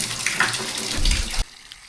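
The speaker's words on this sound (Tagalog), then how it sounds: "Malakas naman yung tubig." Water gushes strongly from a tap in a campsite restroom, a loud, close, steady rush that stops abruptly when the flow is shut off.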